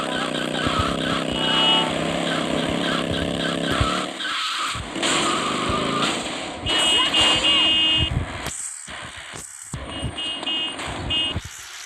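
A motorcycle engine in the video game GTA Vice City Stories revs and drones steadily, with skidding tire noises and brief drops. A voice talks over parts of it.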